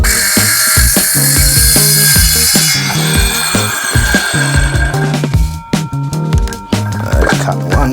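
A saw makes a relief cut in wet wood for garden edging, giving a loud, close, rhythmic grinding and rasping with repeated strokes and a high whining edge throughout, broken by brief dips near the end.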